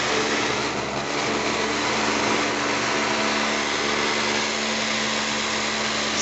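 Cooling fans of an Antminer L3+ crypto mining machine roar at full speed, a loud, steady, unbroken broadband whoosh with a low hum, close by and running the whole time.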